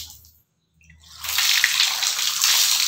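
Water pours steadily into a large bathroom tub in a house, a continuous close rushing splash that swells in after a brief quiet start and holds at a steady level.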